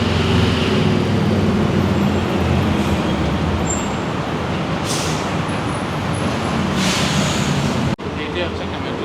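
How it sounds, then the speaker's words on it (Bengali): A bus passes on a busy Thai street at night, its engine rumble and road noise steady and close, with a couple of hissing air-brake bursts; people talk over it, and the sound cuts off abruptly near the end. "এটা মনে হয় বাস, তাই না?"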